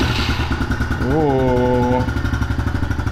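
A new 2024 Honda CRF110F dirt bike idles close by, then gives a single quick rev that climbs and falls back to a steady idle. A voice briefly exclaims during the rev.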